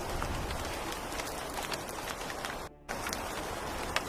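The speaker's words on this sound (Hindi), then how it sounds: "और तभी हल्की हल्की बारिश भी होने लगती है।" Light rain falling in a steady, close, hissing patter with a few sharper drop ticks, briefly cut to silence near the end, with no voices.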